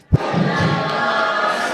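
A crowd of audience members erupts in applause and cheering at a stage show: one sharp thump, then a loud, sustained roar of voices and clapping that holds steady to the end.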